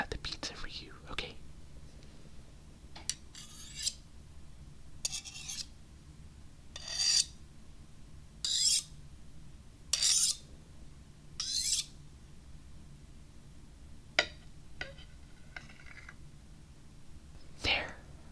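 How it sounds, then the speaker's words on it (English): A knife saws through pizza in a string of short, rasping strokes, close and intimate, spaced apart with quiet gaps, amid soft background noise. "let me go ahead and cut the pizza for you"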